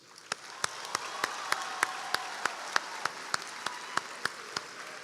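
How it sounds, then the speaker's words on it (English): An audience at a college honors convocation applauds honor students in a broad, steady wash of clapping. A few sharp, evenly spaced claps stand out, likely from one nearby clapper. "A strong round of applause for our honor students."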